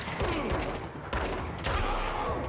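Bursts of rapid gunfire from the video game Control, loud and dense with several sharp volleys across a couple of seconds, no voice over it.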